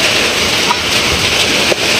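Steady rain falls on a house, a dense continuous hiss of drops on the roof and surfaces, fairly loud and close, with no voices over it.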